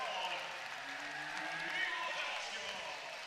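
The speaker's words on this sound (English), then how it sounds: "And the crowd, you get the crowd in the game now." A college basketball crowd at a Mercer versus Florida Gulf Coast game cheers in a broad, sustained roar, with a commentator talking over it throughout.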